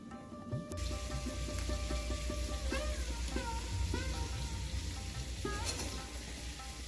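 Tender early-winter cabbage added to a pan of fried spice masala, sizzling steadily and loudly close by, with occasional scrapes and clinks from stirring, no one talking.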